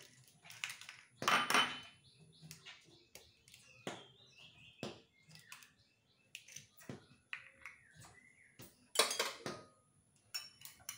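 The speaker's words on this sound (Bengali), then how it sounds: "চামচ দিয়ে একটু মিলিয়ে নিচ্ছি।" A spoon clinks and scrapes against a bowl while cracked eggs are stirred for a dhaba-style chana aloo ghugni, making irregular, fairly close metallic taps in a quiet kitchen.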